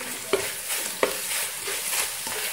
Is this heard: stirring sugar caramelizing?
yes